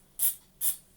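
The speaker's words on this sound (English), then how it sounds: "I have my little tin of electrical contact cleaner." Two short hissing bursts of electrical contact cleaner sprayed from a small tin, close and crisp, with a brief gap between them.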